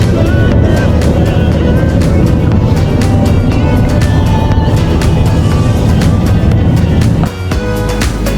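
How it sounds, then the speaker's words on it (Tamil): A ferry's engine drones loud and steady on the crossing to Aranmore Island in Donegal, Ireland, a heavy continuous rumble that dips briefly near the end. "வாங்க, போட்டில் போனோம்."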